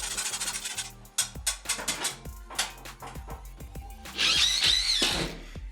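A power drill bores holes for ceiling spotlights during a home renovation, heard as a series of short, close bursts and knocks, ending in a longer high-pitched whirring run.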